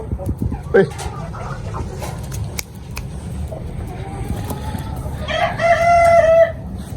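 An Ayam Cemani rooster in a rooftop poultry setup in Faisalabad lets out one loud crow near the end, after some scattered clucks and background noise, with someone talking nearby.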